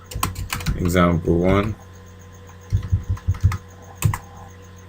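Short bursts of keystrokes on a computer keyboard as a command is typed, a quick cluster of close clicks following a stretch of speech, then one more isolated tap.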